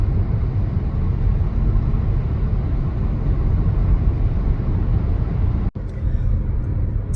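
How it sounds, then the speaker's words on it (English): Heavy road traffic rolls past near a bridge, a loud continuous rumble and roar of passing cars that cuts out abruptly for a moment near the end. "Traffic is fairly heavy."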